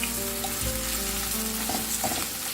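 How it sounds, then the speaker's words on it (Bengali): Thin chicken slices laid flat in a pan of oil over low-medium flame fry with a dense, continuous close sizzle, punctuated by a few soft pops and crackles. "এটা তোমরা যে কোনো তেল দিয়ে ফ্রাই করতে পারো যেমন অলিভ অয়েল দিয়েও তোমরা এটাকে ফ্রাই করতে পারো"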